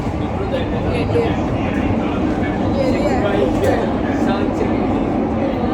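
Steady, loud rumble and rattling noise inside a moving metro train carriage, continuous for the whole stretch, with faint voices mixed into the din.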